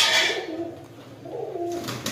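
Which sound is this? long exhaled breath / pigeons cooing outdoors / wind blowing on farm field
pigeons cooing outdoors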